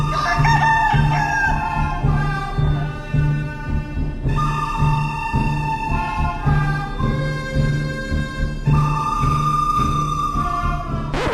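A rooster in a village yard crows loudly and close by, several long calls over a steady hum of outdoor noise, with no talking.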